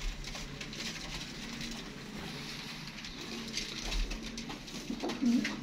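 Pigeons at a breeder's loft in Faisalabad, giving low, soft cooing calls that repeat under a steady wash of ambient noise, with faint patter and rustling around them.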